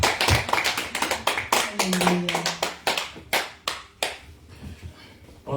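A church congregation claps and acclaims an arriving bishop at an evening service, with dense, loud applause that thins toward the end. A voice briefly calls out over it.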